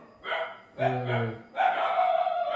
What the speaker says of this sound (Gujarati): કૂતરા રાડું પાડેલા